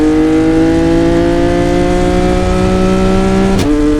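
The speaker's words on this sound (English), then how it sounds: "Let me see if it hits a quick pop." A Yamaha R9 sport bike fitted with an SC Project CR-T exhaust and a DNA stage 2 kit holds a loud, steady, buzzing high rev close by, then snaps shut into one sharp exhaust pop near the end.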